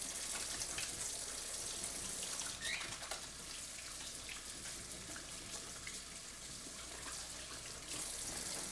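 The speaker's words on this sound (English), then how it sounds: "Give my hands a good wash." A steady rush of running tap water pours into a sink as hands are washed, the stream continuous and close throughout with no talking.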